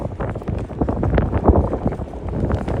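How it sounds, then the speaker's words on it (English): Gusty wind buffets the microphone on a Manhattan street, a continuous low rumbling roar with uneven surges, loud and close, with no voices. "It's been windy throughout the day today."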